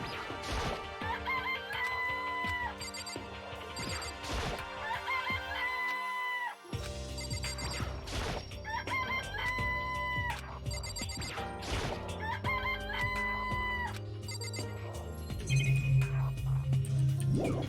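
Chickens cluck in the video game Danganronpa: Trigger Happy Havoc, short bursts of fowl sounds mixed into a busy bed of game music and crashing effects that play throughout.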